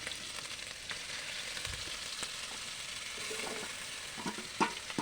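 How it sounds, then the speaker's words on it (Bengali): Spices with panch phoron fry in a pan, giving a steady, soft sizzle with occasional faint stirring taps, close by and fairly quiet. "আমি মশলাগুলোকে ভেজে নিচ্ছি যেন ওগুলো পুড়ে না যায়"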